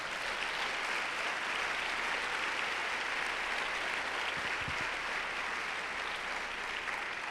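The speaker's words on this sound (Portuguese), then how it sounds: "Podemos aplaudir nosso Deus." Sustained applause from a church congregation fills the room at a steady, dense level throughout, with no speech over it.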